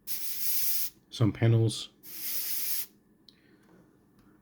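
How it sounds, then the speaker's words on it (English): Airbrush or spray can hissing dark grey paint onto masked panels of an AMT Havoc Marauder model kit, two steady bursts around a brief spoken phrase, close and fairly loud. "carefully just spraying these darker grey."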